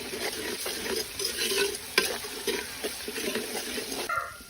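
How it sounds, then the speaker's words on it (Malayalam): Ginger garlic paste fries in a pan for a rabbit roast, a close sizzle broken by repeated scraping stirs of a spoon in an uneven rhythm, with no talk. "ഇനി നമുക്ക് ഇതിന്റെ പച്ചമണം ഒന്ന് പോകുന്നത് വരെ ജസ്റ്റ് 1 മിനിറ്റോളം ഒന്ന് മൂപ്പിച്ചെടുക്കാം"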